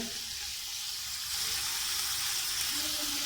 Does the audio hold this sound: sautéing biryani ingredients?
yes